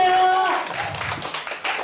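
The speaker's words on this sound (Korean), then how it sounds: "김민주 가수님이라 박수 한번 주세요." Seniors' welfare centre audience clapping to welcome a guest singer: a brief spatter of hand claps that follows a voice trailing off at the start and stays moderate and uneven.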